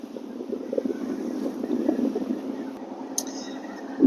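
A motor boat cruises across the Venetian lagoon toward Venice and St Mark's Square, its steady low engine drone running throughout, with wind noise buffeting the microphone.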